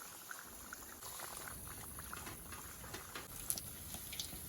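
Potato smileys fry in hot oil over a low flame, giving a steady, even bubbling sizzle close by, with a few soft pops rising out of the constant hiss.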